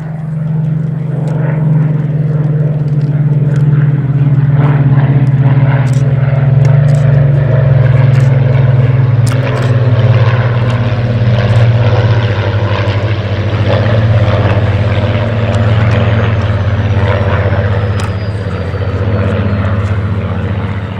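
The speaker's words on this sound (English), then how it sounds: "Spitfire TE and Hurricane LF are flown by the boss of BBMF" A Spitfire and a Hurricane fighter fly at an air show. Their piston engines give a loud, steady, continuous drone with a deep throbbing tone that lasts throughout and slowly shifts in pitch as they pass, with no voices.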